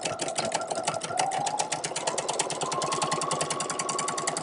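Sewing machine stitching a quarter-inch seam on a tote bag, a fast, even mechanical chatter of needle strokes running continuously at close range with no voices.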